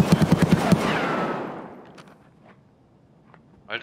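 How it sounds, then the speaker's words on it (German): Rapid burst of about seven gunshots from a firearm in the video game Escape from Tarkov, fired in a quick even rhythm and loud up close, followed by a long decaying echo, a few faint distant shots and a brief clatter at the end. "Schüsse."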